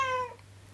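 A cat gives a single short, clear meow that fades within a fraction of a second, quiet and alone.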